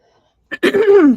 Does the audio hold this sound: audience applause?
no